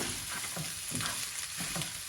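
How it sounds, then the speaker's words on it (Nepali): Steady sizzling and scraping of rice being stirred and fried in a pan, close by, with no voices. "अब यसलाई हामीले मजाले भुटौँ।"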